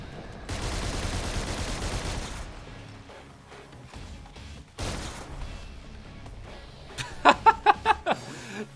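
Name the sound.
Colt Mk.40 L45 automatic cannon firing in video game Fallout 4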